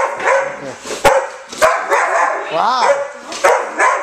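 An excited dog barks close by in sharp, repeated bursts mixed with yips, while people talk over it.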